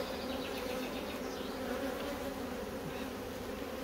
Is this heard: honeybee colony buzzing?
yes